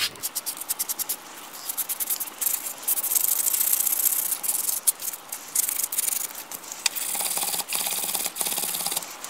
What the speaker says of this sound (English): Now you can clean it up a little bit with sandpaper if you want